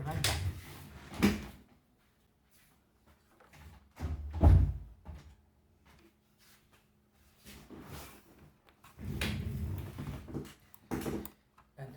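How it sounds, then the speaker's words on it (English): A room door is shut with one solid low thump near the middle, set among quieter knocks and rustles in an indoor space. "I'll just close my door real quick, be right back."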